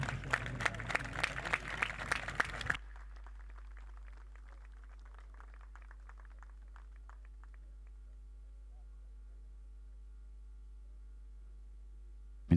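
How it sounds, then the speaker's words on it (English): Applause from a crowd at a golf tournament (EDGA at the Portugal Masters 2018): a dense burst of clapping for about three seconds that stops abruptly, leaving a quiet, steady hum. "Round of applause for everyone."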